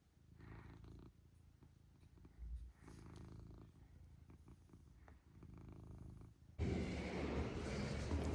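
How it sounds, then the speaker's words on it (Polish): Soft, close purring from a cat, a low rhythmic rumble with pauses, then a louder rustling burst near the end. "I się zawsze tak fajnie głośno mruczy."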